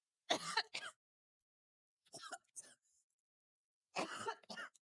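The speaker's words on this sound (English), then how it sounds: "I was breathing through my mouth, and it made me cough." Three short bursts of coughing, close and fairly loud, separated by pauses, with a throat-clearing quality.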